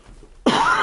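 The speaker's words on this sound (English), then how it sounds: "I've got such a bad cough at the moment." A single sharp cough from someone with a bad cough bursts out loud and close after a brief quiet moment.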